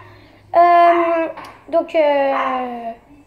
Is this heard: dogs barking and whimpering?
yes